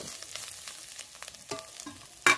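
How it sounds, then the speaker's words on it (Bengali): Spices and ingredients frying in oil in a kadai for bottle gourd lau dal, a steady close sizzle with soft stirring scrapes and a sharper metal clink near the end. "ভালো করে এই সবগুলো উপকরণ একটু লাল করে ভেজে নেব।"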